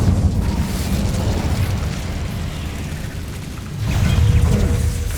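An Incendio fire spell blasts in the video game Hogwarts Legacy, a loud, continuous roaring burst with rumbling low end that swells again near the end.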